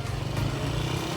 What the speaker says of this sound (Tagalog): Ayun, may motor pumasok.